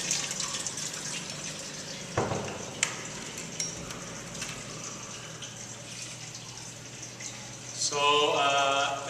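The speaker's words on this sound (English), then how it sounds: "in this basin there is a pump which then pumps it up through the tube, up through the water" A pump circulates water through a tube in a church baptismal font basin, giving a steady, close trickling and gurgling wash that swells into a louder bubbling gush near the end.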